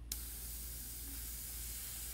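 Spray paint hisses onto a textured hat painting in one close, continuous burst that starts sharply and holds steady to the end.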